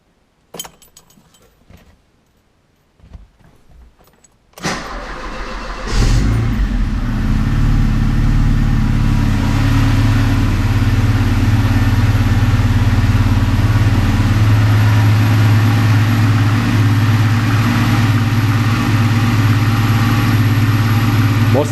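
A 1990 Alfa Romeo Spider engine cranks over after a few seconds of quiet handling noises, catches and settles into a steady, loud, even idle close by that runs to the end.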